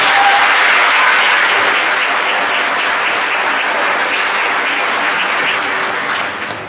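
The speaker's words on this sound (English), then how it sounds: "Let's give them a round of applause" An audience at a school move-up ceremony applauds students, giving loud, dense, continuous clapping that holds steady for several seconds before tapering slightly at the end.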